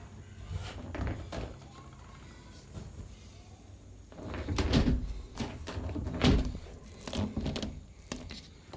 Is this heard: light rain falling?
no